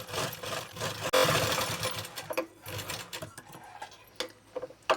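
A sewing machine stitching blouse fabric with a fine, rapid mechanical whir in short runs that stop and start, close but moderately quiet, no voices.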